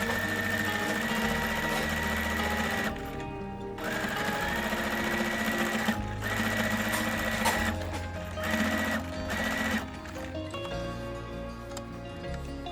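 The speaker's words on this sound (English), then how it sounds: "I am sewing along the folded edges with the second fabric inserted along the folds to make the reversible table mat." A sewing machine runs in steady bursts, stitching along the folded edges of a reversible fabric table mat with mitered corners. The close, loud whirring stops briefly several times and starts again, with no talk.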